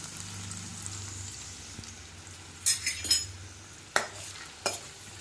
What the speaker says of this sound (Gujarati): તેલ આવી જાય એટલે એની અંદર હું આવી રીતે સોતે કરવા માટે અનિયન અને ટામેટાં નાખી દઈશ.